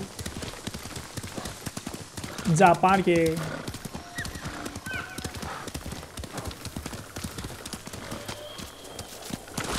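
A horse in Ghost of Tsushima trots with a rapid, continuous clip-clop of hooves and gives one loud whinny early on, while someone talks over the riding.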